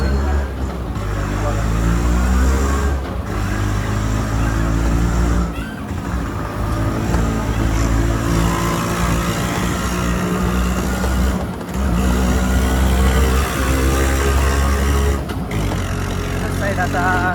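Steady road traffic crossing a bridge that has reopened on one side only, with engines humming continuously and the occasional louder vehicle rumbling past nearby, a voice talking over it throughout.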